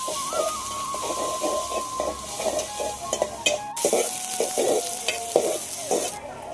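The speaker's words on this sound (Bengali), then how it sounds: "মাছ ভাজার যে এক্সট্রা তেলটা ওটা এখন দিয়ে দিলাম, সেই সাথে আরেকটু তেল দিলাম, দিয়ে দিচ্ছি একটু পাঁচ ফোড়ন আর সামান্য একটু গোটা জিরা।" Panch phoron and whole cumin seeds hitting hot oil left over from frying fish, a close steady sizzle with repeated scraping stirs and light clinks of a spoon against the pan.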